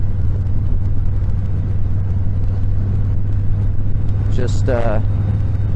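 Harley-Davidson Softail Fat Bob with repacked straight-through mufflers idles and rumbles steadily with a deep low throb, while someone briefly speaks near the end.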